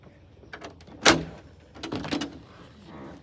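A door swings open with a sharp bang of the latch and a rattling clunk during dog training, followed by a couple of softer knocks and handling noises close by.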